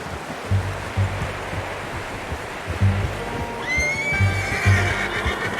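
A horse whinnies in Red Dead Redemption 2, a rising, shrill neigh near the end, over a low rumbling outdoor bed with soft, rhythmic thumps beneath.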